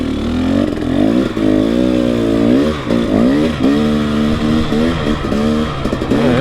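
A 300 enduro dirt bike rides loose desert single track, its engine revving up and down continuously, close and loud with rapid throttle changes and shifts, with no talk.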